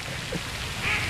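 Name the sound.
duck quacking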